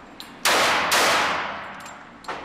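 Two loud .45 double-action SIG 220 pistol shots fire about half a second apart, each with a sharp crack and long ringing decay, followed by a fainter third report near the end.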